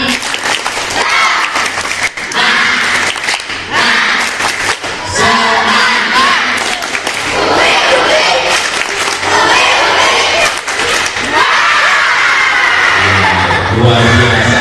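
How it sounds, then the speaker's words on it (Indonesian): A school audience of children doing a spirited rhythmic clapping chant during an indoor puberty and sexuality session, loud and continuous, with claps and shouted voices filling the room throughout. "Tepuk semangat."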